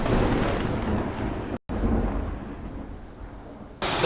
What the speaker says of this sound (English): we were hoping for rain, but not this bad